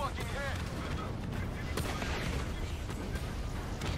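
Gunfire in the Call of Duty Black Ops 3 campaign, a sand castle mission, crackles as repeated close shots and bursts over a rumbling battle bed for several seconds.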